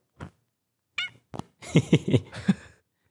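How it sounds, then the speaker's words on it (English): A cat meows several times, short chirps at first, then a run of close, drawn-out meows in quick succession. "you want to give him a meow?"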